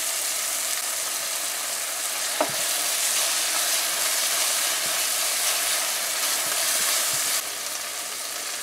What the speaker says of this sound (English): Now for our tomato paste.